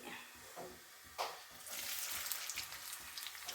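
Cumin and onion fry in oil in a pan for garlic rice, a soft, continuous sizzle with faint crackles and spatters, quiet and close, with no one speaking.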